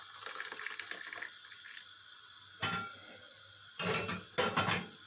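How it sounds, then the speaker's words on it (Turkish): Hot water poured into a pan while cooking kısır with tomato paste, giving short splashing bursts near the end after quieter kitchen clinks of utensils and dishes. "Şöyle yarım sıcak su koyacağız tabii ki arkadaşlar."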